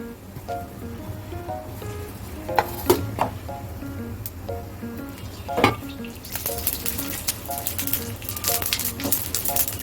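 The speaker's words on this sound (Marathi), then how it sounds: "आता आपण मिरच्यांना थोडस रोस्ट करून घेणार आहोत मिरची भाजताना थोडं लक्ष द्या नाहीतर ती करपेल बघा जीरा ऍड केले" Dry red chillies and cumin roasting in a pan, a soft low sizzle with scattered light clicks and scrapes of a spatula, growing into a brighter crackling hiss toward the end, close by with no talking.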